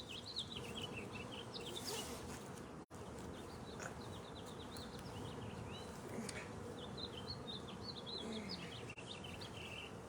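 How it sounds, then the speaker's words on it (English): Dense, steady buzzing of many honeybees swarming around an open hive during a spring hive split, loud and close throughout, with occasional sharp individual bee whines and faint bird chirps in the background. "And another bee is already trying to get in my suit."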